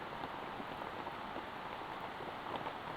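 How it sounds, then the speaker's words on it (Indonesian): Heavy rain pours down in a dense, steady hiss of drops drumming on surfaces, loud and unbroken throughout, with no talking. "Waduh, hujan sangat deras sekali itu, teman-teman."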